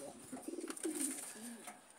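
Pigeons cooing in a pigeon loft, a few soft close throaty coos in quick succession over a quiet background.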